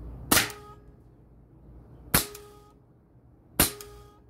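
Three sharp, loud shots ring out from an AEA .25 or .357 caliber PCP air rifle fired at a metal front door, each a crisp crack with a brief ringing tail, spaced unevenly about a second and a half apart.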